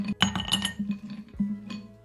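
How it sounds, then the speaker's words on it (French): Small ice cubes clink one after another into a drinking glass while iced matcha is being prepared, a quick run of bright close chinks with a few louder knocks and no talking. "Je vais mettre des petits glaçons dans un verre."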